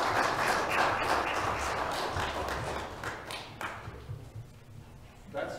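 Applause from a church congregation during a Sunday service, dense clapping that gradually thins and fades, with a brief burst of claps near the end.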